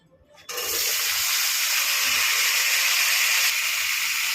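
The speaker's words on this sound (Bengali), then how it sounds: "এবার আমি আলুটা ভেজে নেব।" Potatoes hit hot cooking oil with a sudden loud burst of sizzling that settles into a steady, dense hiss close by.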